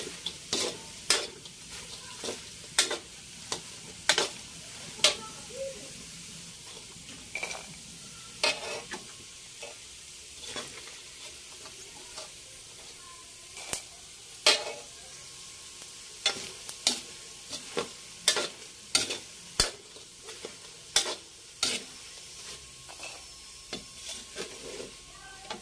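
Ingredients sautéing in a pan for pancit habhab: a faint, steady low sizzle under repeated sharp clacks of a utensil against the pan, scraping and tossing at an irregular pace throughout.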